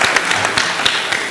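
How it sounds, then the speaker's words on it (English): A congregation at a Sunday church service claps loudly and close by, a dense burst of many hands with a few sharper individual claps standing out. "Let's give her a round of applause"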